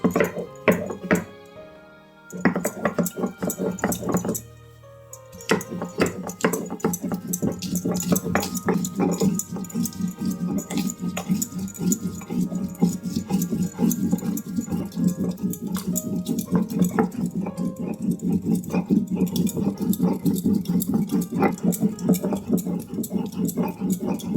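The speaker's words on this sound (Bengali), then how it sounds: "আমি এখন কাঁচা লঙ্কা আর আদাটা বেটে নিই।" Green chilli and ginger ground into a paste in a kitchen, a dense, continuous scraping and knocking of stone or utensils close up, with short pauses early on.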